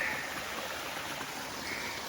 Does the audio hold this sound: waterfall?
yes